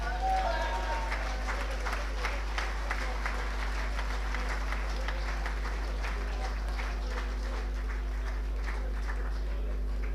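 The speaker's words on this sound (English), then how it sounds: "A bit of a round of applause, we might cheer him up." A crowd at a celebration dinner gives a round of applause, steady dense clapping throughout, with a voice speaking over it at the start.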